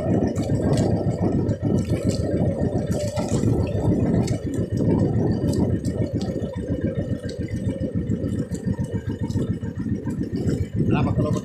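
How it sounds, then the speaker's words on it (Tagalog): A fishing boat's motor runs at high revs, a loud, continuous rattling engine drone with a busy mechanical clatter that holds steady throughout, while someone talks over it. "Mataas ang andar ng aking makina"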